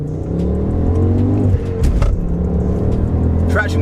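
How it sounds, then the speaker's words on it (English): A turbocharged car pulls hard from a standing start in a drag launch, its engine droning loud and close with rising revs and a brief gear-change dip, with people's voices under the engine. "Strong clutch, and when that turbo kicks in, this thing is pulling"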